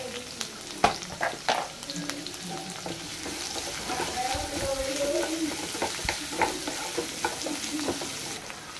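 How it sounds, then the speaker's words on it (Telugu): Green chillies and onions fry in hot oil with tempering spices for a broad-bean fry, giving a close, constant sizzle with frequent spatula scrapes and knocks against the pan. "తర్వాత పచ్చిమిర్చి, ఉల్లిపాయలు బాగా ఫ్రై అవ్వాలి."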